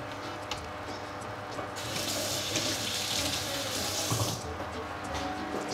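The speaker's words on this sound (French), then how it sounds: "eh ben vous allez les égoutter et surtout vous les rincez bien." Canned lentils rinsed under a running kitchen tap, a steady hiss of water that swells louder in the middle as the flow hits the pulses in the sink, then eases back.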